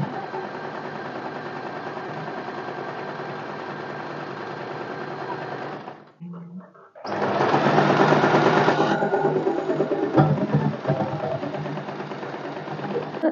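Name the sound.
sewing machine stitching a seam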